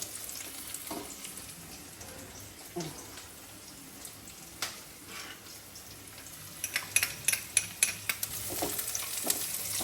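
Mutton and dried chillies hit a pan of frying onion and garlic, setting off a soft continuous sizzle with stirring scrapes and a run of sharper spatters and clicks toward the end.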